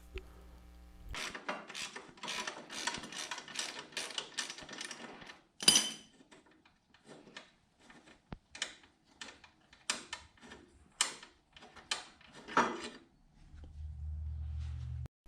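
Metallic clicks, scrapes and clunks as the subframe of a 2003 Honda Shadow 1100 motorcycle shifts and is worked loose during engine removal, a run of irregular knocks and rattles close by, ending in a low hum.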